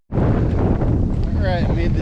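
Heavy wind buffeting a microphone while cycling into a headwind on the road toward San Francisco, a loud, continuous roar that starts abruptly and drowns out any voice.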